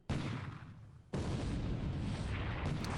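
A torpedo hit explodes in the War in the Pacific naval strategy game, heard as a dense, roaring blast that fades briefly and then swells again into sustained, heavy rumbling.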